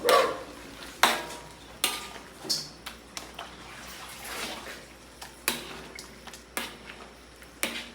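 Utensil scraping and clinking against a pot of boiling chicken tamarind soup, with irregular sharp knocks over a low bubbling, sizzling background.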